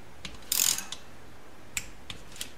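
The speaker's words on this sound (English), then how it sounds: "So we'll go over to this one and torque it to 8." Torque wrench tightening a crankcase bolt on a 1973 Honda CB750 during engine assembly: one loud ratcheting clatter, then a few faint isolated clicks, close and alone.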